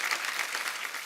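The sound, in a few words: studio audience applause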